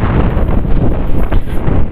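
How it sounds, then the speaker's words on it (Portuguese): Strong wind roars across the microphone beside a warm-water lagoon, a loud continuous broadband buffeting with gusty surges and no pauses. "E o vento aqui tá forte, viu?"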